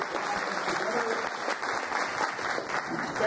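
Sustained applause from a conference audience at an ed tech keynote, many hands clapping in a dense, even wash for a few seconds with a faint voice or two mixed in.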